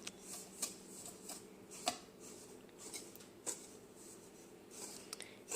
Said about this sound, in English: just whisk it together